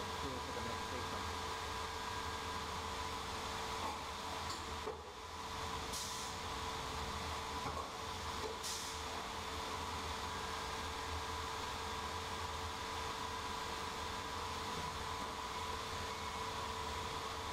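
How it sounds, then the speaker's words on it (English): A CNC router's spindle winds down while the machine travels across to its automatic tool changer, giving a steady, loud mechanical hum and whir that stays fairly even throughout with a brief dip partway. "the spindle will slow down and the machine will automatically go across to the tool changer and pick up the next tool"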